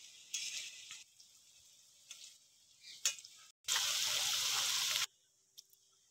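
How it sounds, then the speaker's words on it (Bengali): Onions fry in oil for chicken kacchi biryani, giving short, soft sizzles and then a louder steady burst of crackling hiss lasting over a second. Afterward the sound drops back to quiet kitchen ticks. "পেঁয়াজটা ভাজতে হবে, না হলে বেরেস্তা হবে না, না হলে পুড়ে উঠবে।"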